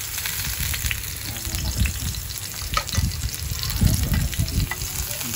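Beefsteak fries in olive oil in a pan, giving a loud, steady sizzle and crackle heard up close, with occasional stirring or shifting of the meat adding brief bursts throughout.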